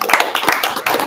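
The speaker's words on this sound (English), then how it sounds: "Clap it up for Team React and Team View." A small group of people clap during a React versus Vue coding battle, giving a short burst of quick, uneven handclaps close by with no talking.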